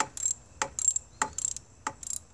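A ratchet loosens the negative battery terminal bolt on a Toyota RAV4 in about five short bursts of fast metallic clicking, close and crisp against near silence.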